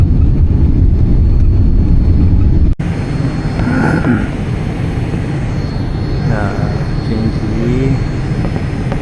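A passenger airliner approaching Incheon Airport to land, heard from the cabin as a steady, loud broadband engine and air roar that continues throughout, with faint voices now and then underneath.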